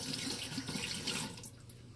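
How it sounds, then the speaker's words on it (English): A bathroom tap runs steadily while a toothbrush used for hair is held under the stream to wet it, a close, continuous splashing rush that eases off slightly toward the end. "I'll take a toothbrush, the one that I use for my hair, and I wet it"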